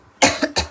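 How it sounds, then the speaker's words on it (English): A cough from the cartoon character Cuphead: two sharp, close coughs in quick succession, the first longer and rougher, heard alone. "I have some kind of weird, cool cough."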